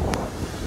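Wind gusting hard against the microphone during a road trip toward Visakhapatnam, a loud broadband rushing roar that cuts off abruptly after under a second.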